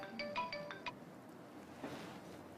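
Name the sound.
telephone ringing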